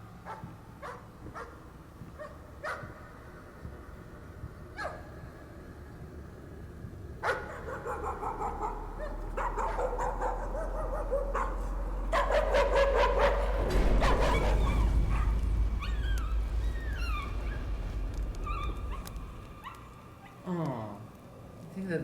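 A dog barks and whimpers inside the VR horror game Layers of Fear, heard as scattered yips and whines over an ambient drone that swells into a louder rumble midway, with a person talking at times.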